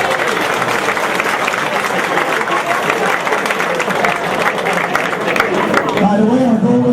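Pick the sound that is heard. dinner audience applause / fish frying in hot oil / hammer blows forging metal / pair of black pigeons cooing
dinner audience applause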